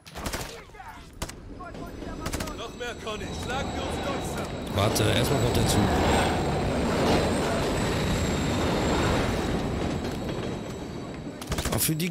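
Train rolling past in the video game Call of Duty Modern Warfare 3, a steady loud rumble with rattling wheels lasting most of the stretch, mixed with scattered gunfire-like bangs.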